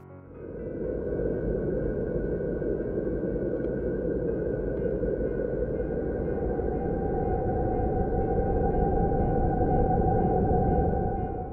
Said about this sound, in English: These sounds come from the intense radio emissions where the magnetic field lines thread the polar region